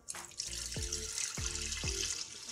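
About a liter of water streams steadily into a pot with garlic and salt for pulao stock, with three distinct sloshing surges as the flow shifts, close by and fairly loud.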